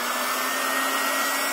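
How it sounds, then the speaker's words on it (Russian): Hair dryer blowing steadily, used to heat adhesive tape, a loud, even broadband whoosh with a constant motor hum, alone and without interruption. "Сейчас фен подогреется."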